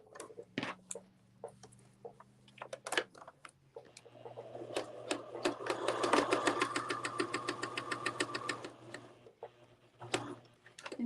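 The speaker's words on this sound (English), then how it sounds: "go over here to the sewing machine" A sewing machine stitching fabric runs in a fast, even burst, whirring with rapid ticks, framed by scattered clicks and handling noises.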